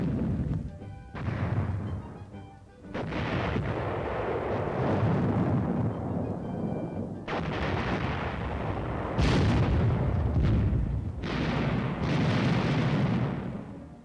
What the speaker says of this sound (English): Camp Fuji also provides instruction with artillery and armor.